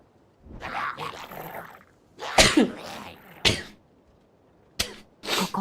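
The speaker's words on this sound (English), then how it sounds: "I sneezed." Several sharp human sneezes burst out one after another at close range, separated by short pauses, with no talking around them.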